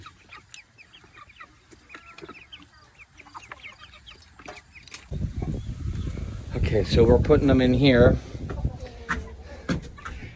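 Hens clucking and squawking nearby, growing louder and busier partway through, with a person talking over the birds on a farm.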